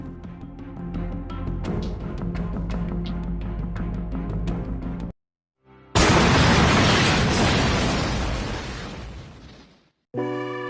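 A grenade explodes in a room in a Detective Conan live-action film. A tense music score plays, then cuts to near silence before a sudden loud blast rolls into a long roaring rumble that slowly fades.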